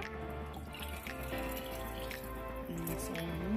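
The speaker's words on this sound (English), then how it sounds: "I'm going to add some water, but instead of taking a pot, I'm going to use" Water pouring steadily from a pitcher into a cooking pot, a continuous splashing stream with rising tones as it fills, close by with no talking.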